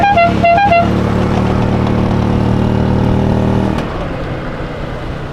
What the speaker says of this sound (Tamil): இன்ஜின் சவுண்டு மட்டும்தான்